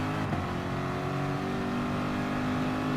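Race cars accelerating together at a rolling start in Gran Turismo Sport on the American Tri-Oval track, a steady loud engine drone with layered revving tones that holds for the whole stretch.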